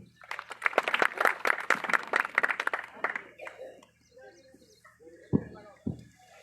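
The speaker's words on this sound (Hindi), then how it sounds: "ये तालियां खोल भाई के लिए कम थी, जोरदार तालियां" An audience at a progressive farmers' celebration and organic farming seminar in Dakhora, Kosli, Rewari gives dense, lively applause for about three seconds before it fades and someone talks.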